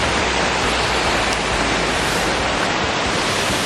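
Waterfall in a forest roaring continuously at close range, a dense, steady wash of rushing water that fills the whole clip at high volume with no pauses and no audible voices.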